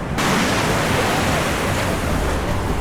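Big ocean waves crash and roll continuously at a surf beach in La Union, a loud, steady broadband roar of surf with wind, no voices.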